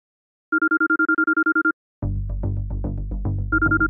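A mobile phone ringtone for an incoming call, a loud close electronic trill of rapid repeated beeps, then a melodic ringtone tune that starts up after a short pause.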